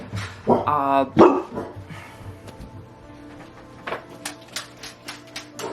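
Several dogs bark in loud, overlapping bursts at first, then sharp isolated barks continue at intervals, with faint talk in the background.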